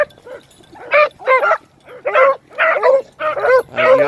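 A puppy gives a string of deep yelping barks and whimpers, about eight close, loud yelps in an uneven rhythm, with no talking over them.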